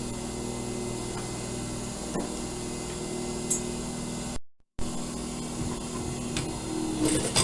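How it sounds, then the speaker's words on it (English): A serger overlocks the edges of a fabric surgical scrub cap, its motor running in a steady fast whir with a faint rhythmic clatter, fairly quiet and alone, briefly cutting out midway. "All I have to do now is serge around the edges, and that'll take like a minute."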